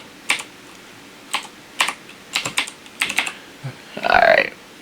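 A computer keyboard gives off close, clicky typing in short bursts of keystrokes separated by brief pauses. A denser flurry of clatter comes near the end, and no one speaks.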